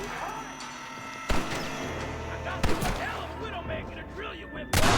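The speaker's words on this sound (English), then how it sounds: "There's another person shooting at you." Three sharp, loud gunshots crack at irregular intervals in the Red Dead Redemption video game over a continuous background of game sound and music, with voices talking in between.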